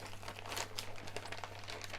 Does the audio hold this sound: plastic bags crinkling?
yes